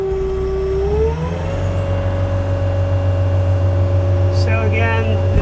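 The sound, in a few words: Kubota SSV65 skid steer loader engine starting and running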